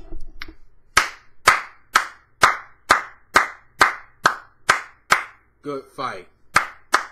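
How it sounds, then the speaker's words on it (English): Hands clapping alone in a steady series of about a dozen sharp, loud claps spaced roughly half a second apart, followed by a few words of speech at the end. "Let me put this microphone down because I need to clap my hands."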